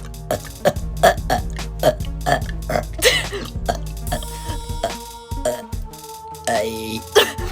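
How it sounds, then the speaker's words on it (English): A girl burps over and over in quick succession, trying to fit as many burps as she can into a minute; loud, close, gurgly belches come in an uneven rhythm with brief gaps between them. "I'm gonna see how many times I can burp in a minute"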